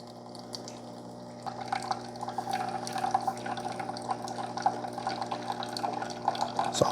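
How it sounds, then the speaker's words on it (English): Vinegar flowing through a Mueller U-700 K-Cup single-serve coffee maker during descaling: a low machine hum, then trickling and dripping liquid that grows louder and steadier as it starts flowing. "Now we're going to let that vinegar run through that machine just for a little bit"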